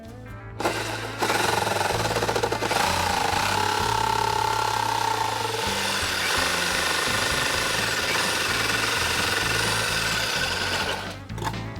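A saw with a fine-tooth metal blade cutting a vehicle's herd bumper: a loud, continuous buzzing and grinding drone with rapid rhythmic chatter, starting abruptly and running steadily until it stops near the end.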